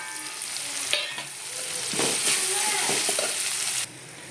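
Garlic and dry coconut paste fry in a pan for a dhaba-style peas curry, giving a loud, close, continuous sizzle with stirring scrapes that cuts off abruptly near the end.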